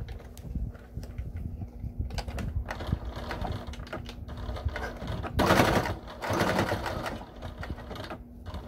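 A sewing machine stitches straight across folded fabric for a small Christmas gift, a close, rapid mechanical rattle that keeps going and swells louder toward the end.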